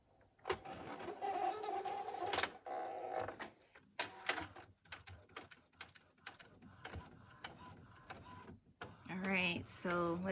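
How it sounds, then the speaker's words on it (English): Mechanical whirring and clicking of an Epson EcoTank inkjet printer feeding a printable magnetic sheet and moving its carriage in bursts, with some quiet talking mixed in. "Okay, so I'm about to press print, and let's see how it gets through the printer."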